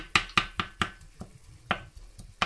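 A wooden spoon breaks up and stirs minced meat with garlic in a pan, giving a series of sharp, close wooden knocks in an uneven rhythm, with no talking.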